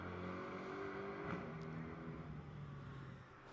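GT4 race car at Road America, engine held on throttle as it is worked through a corner, a steady loud drone with shifting harmonic tones and no voices.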